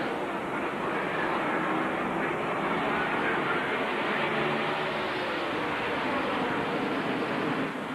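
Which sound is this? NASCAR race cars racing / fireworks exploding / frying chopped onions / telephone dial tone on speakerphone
NASCAR race cars racing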